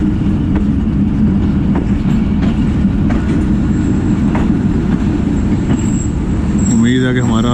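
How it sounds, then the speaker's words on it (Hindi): The 128 Down Mehr Express rumbles loudly with steady wheel and carriage noise as it approaches a railway station in Pakistan, heard from on board, with a voice speaking over it near the end. "रेलवे स्टेशन पे अप्रोच कर रही है 128 डाउन मेहर एक्सप्रेस।"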